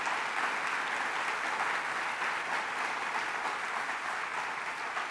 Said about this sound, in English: So I just want to give a round of applause for the team of Open Arms Pregnancy.